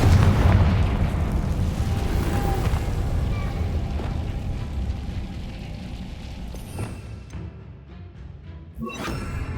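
Explosive blasting spell cast in Hogwarts Legacy: a heavy, loud boom opens a rumbling, crackling barrage of impacts that gradually thins out, followed by a sharp burst near the end, with no talking.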